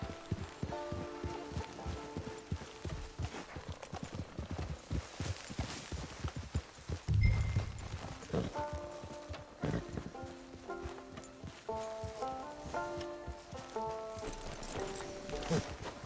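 Horse hooves clip-clop at a steady walk in the video game Red Dead Online, a quiet repeating clatter running through the whole stretch. Soft music plays underneath, and there is a short thump partway through.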